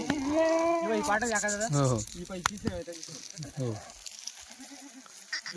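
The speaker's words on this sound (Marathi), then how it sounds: "हे बघा मित्रांनो शेळ्या" Goats bleat several times in quick succession, close by and fairly loud, with people talking among the calls and some rustling at the end.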